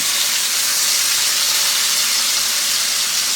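Pork roast sizzles steadily as it browns in a hot pan with butter, a dense, even hiss that stays loud and close throughout with no talking.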